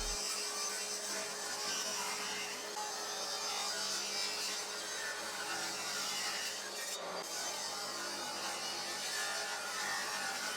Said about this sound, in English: Then I could rip this piece into 4 separate legs on the table saw